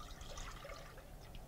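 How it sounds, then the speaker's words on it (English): Heavy whipping cream pours into a mixing bowl as a soft, faint liquid trickle, steady and quiet for a moment with no talking. "pour your heavy whipping cream"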